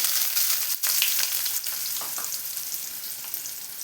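Onion frying with mustard seeds in two spoons of hot oil in a pan crackles and sizzles loudly and continuously up close, with a few sharp stirring scrapes breaking through.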